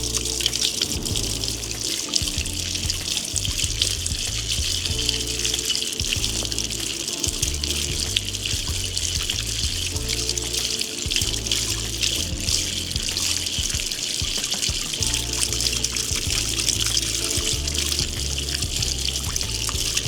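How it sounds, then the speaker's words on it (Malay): Water flows steadily over greased gears during a wash-away test, a continuous rushing, splashing stream with low rumbling underneath, no voices. "Untuk pengujian yang pertama kita akan alirkan air dekat sini."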